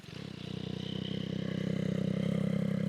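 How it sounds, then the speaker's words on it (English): A 2025 Yamaha MT-09 SP fitted with a Kelpi Moto exhaust runs close by with a deep, steady, pulsing rumble that swells slightly louder over a few seconds, with no talking. "let's fire up this motorcycle and take a listen to this exhaust."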